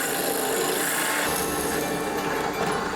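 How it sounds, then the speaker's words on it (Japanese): A 30 mm hole saw cuts through wood for a handle opening, a continuous dense grinding and rasping drone with a slight shift in tone partway through, loud and close with no talk. "30ミリのホールソーを使っています。"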